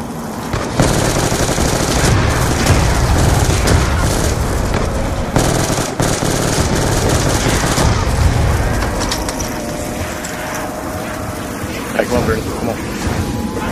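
Rapid automatic gunfire in the Black Ops 2 video game, dense and loud bursts running almost continuously, with talking over it.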